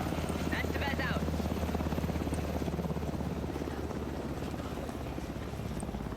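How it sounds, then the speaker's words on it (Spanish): A helicopter in the video game Alan Wake 2 drones with a steady rotor hum and buzz that runs the whole way through, loud and continuous beneath people speaking. "Helicóptero."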